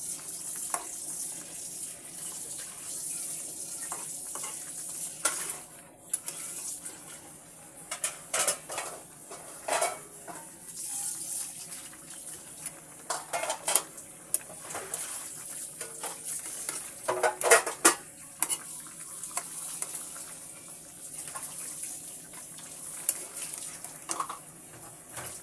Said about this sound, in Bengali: তরকারির ঝোলটা ফুটে উঠেছে, এবার আমি একটু নেড়ে দেব।